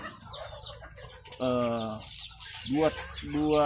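Free-range village chickens cluck and call nearby in a few drawn-out, throaty bursts, with softer chirps and bird sounds scattered around them.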